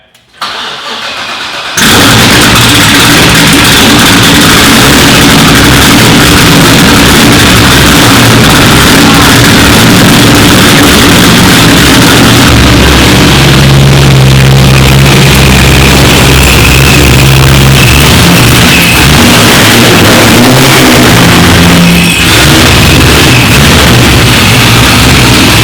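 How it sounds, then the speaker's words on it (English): A Ford Fiesta ST fitted with a hybrid turbo fires up and roars through its exhaust, a loud, close, continuous engine drone that swells in pitch midway as it revs, with no talking over it. "we're gonna let this thing scream, and we're gonna get my reaction to this exhaust sound"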